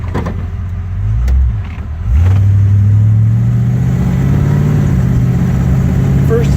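A 1951 Ford F1 pickup pulls away and accelerates, its engine note dipping briefly before climbing again as it shifts from first into second gear. The engine is loud and close, with no talk over it.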